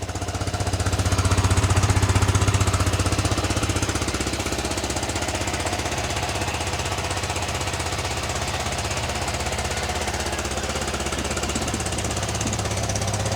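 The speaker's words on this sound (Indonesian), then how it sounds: "Seperti ini suara mesinnya teman-teman." A 2025 Yamaha Vixion motorcycle engine idles after a kick start, a steady close, loud mechanical chatter with a fast even rumble that swells briefly in the first few seconds, then holds constant throughout with no talking.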